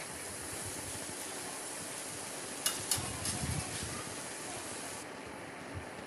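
A spatula stirs and tosses vegetable hakka noodles in a hot pan, giving a steady soft sizzle and hiss with a few brief scraping clatters partway through.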